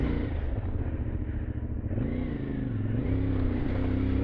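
An adventure motorcycle engine pulls steadily under throttle, giving a continuous close droning rumble that rises in pitch and then settles again, with no talk over it.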